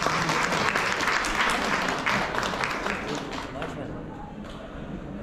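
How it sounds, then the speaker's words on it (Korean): Wedding guests applaud loudly and steadily in a hall, sustained clapping from a crowd that gradually thins and fades, with some voices mixed in. "다시 한번 큰 박수 부탁드립니다."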